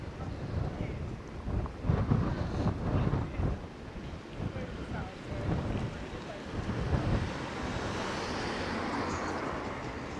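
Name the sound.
strong wind blowing on microphone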